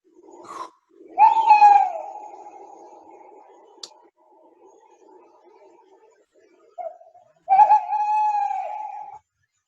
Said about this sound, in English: That was an owl, and it's a tawny owl